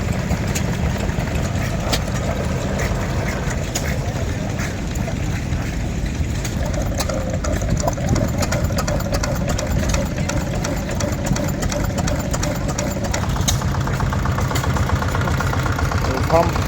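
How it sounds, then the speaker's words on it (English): Old stationary engines running at a tractor show, a steady mechanical chugging and idling rumble throughout, with intermittent clicking and a faint tonal whine partway through, while people talk nearby. "couple more engines."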